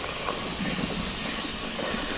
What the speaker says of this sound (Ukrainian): Вигрів до красна і тепер у відро.